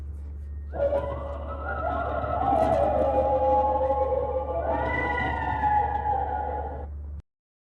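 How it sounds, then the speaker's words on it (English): Red wolf howls played back through a zoo soundboard speaker, several overlapping wavering howls rising and falling together over a steady low hum, fairly loud and continuous for about six seconds before cutting off abruptly. "If you press these buttons, you might hear the howls of the red wolf."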